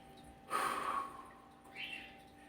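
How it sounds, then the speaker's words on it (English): A single deep breath: a sharp, strong inhale through the nose lasting under a second, then a softer, breathy exhale a moment later, close and quiet with no talking. "Take a deep breath."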